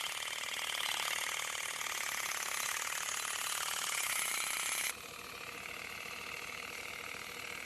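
A pneumatic olive harvester, powered by air pressure from a tractor, shakes tree branches one by one with a continuous buzzing, rattling vibration. The sound is fairly faint and steady, and it drops abruptly to a lower level partway through.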